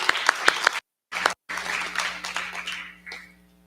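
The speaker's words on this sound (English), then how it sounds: "Nice big round of applause." Audience applause at a public Board of Education meeting recognizing staff, with a few sharp claps at first, a brief gap, then a sustained round of clapping that fades near the end.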